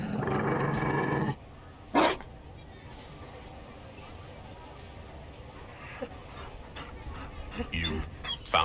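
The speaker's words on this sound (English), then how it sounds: "You found a dog?" A Mabari war dog in the video game Dragon Age Inquisition growls and gives short barky yips, with a sustained rumble at first and a sharp burst soon after, followed by quieter scattered game sounds.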